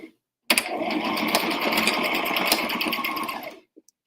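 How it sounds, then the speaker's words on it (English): Sewing machine backstitching back and forth over a folded apron corner seam, one steady close burst of motor hum and needle clatter lasting about three seconds, with brief quiet before and a small click after. "I'm going to back stitch a few times on this corner"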